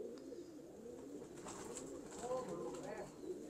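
Soft, low cooing of Sandurii Palak pigeons, steady and murmuring, with a faint voice-like hum in the background.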